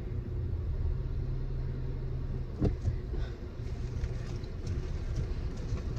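A car driving on the road, heard from inside as a steady low engine and road rumble with a brief bump or thump partway through, without any talk.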